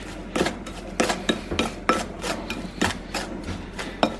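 A spoon's back presses and scrapes through sponge cake batter in a bowl, a steady series of about a dozen rhythmic rasping strokes, close and moderately loud, with no talking.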